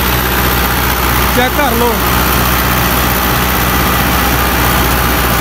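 A 2004 Fiat 640 tractor fitted with a 60-cutter rotavator runs with a steady, even engine drone throughout, and someone speaks briefly over it.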